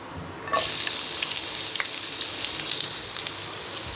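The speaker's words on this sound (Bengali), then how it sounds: "এখানে আমি কড়াইতে তেল গরম করে নিয়েছি এবার এক কাপ পরিমাণ পেঁয়াজ কুচি দিয়ে দিব" A cup of chopped onions hits hot oil in a kadai with a sudden loud hiss, then settles into a steady, bright, close sizzle of frying for a Bangladeshi bata fish dopeaji.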